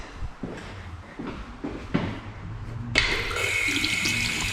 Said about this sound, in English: good spot to fill up some drinking water